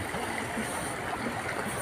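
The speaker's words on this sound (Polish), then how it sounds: "Strumyk." Small stream flowing near Hechtsee, a steady broadband babble of running water close by, continuous and even throughout with no voices.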